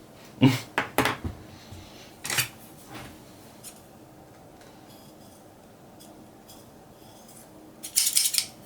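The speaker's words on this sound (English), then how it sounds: "These scissors are done for." Worn-out scissors snipping in a few quick clustered bursts, a couple of crisp cuts early, a pause, then another brief burst at the end.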